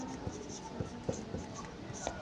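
Chalk or marker strokes on a classroom board during a maths lesson make quick scratchy taps and short scrapes in an uneven rhythm, close by, with a faint voice in the background.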